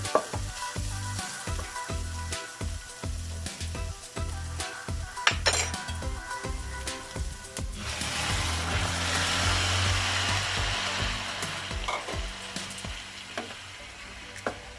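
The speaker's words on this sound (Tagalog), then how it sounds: "hulog na natin yung ginisa natin kanina na pork and pork liver" Sautéed pork and pork liver tipped into a hot pan for Ilocano igado, setting off a loud, steady sizzle and frying hiss among clanks and stirring scrapes of utensils against the pan.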